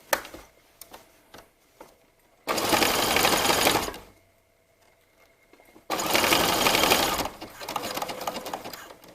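A sewing machine stitches slowly over a sports bra seam and elastic in two loud sustained runs of whirring stitches, each about one to two seconds long. Quiet gaps with faint clicks and handling noises come between the runs.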